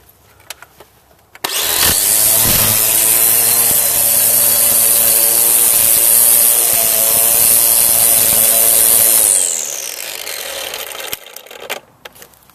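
A string trimmer cuts grass along the base of a fence in a residential lawn, its engine whining loudly and steadily for about eight seconds before spinning down and fading.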